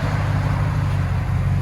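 Idling 2020 Ram 1500 pickup with a 5.7L Hemi V8 and a B2 Fabrications exhaust, a steady deep low rumble heard up close and loud for a brief moment with no talking.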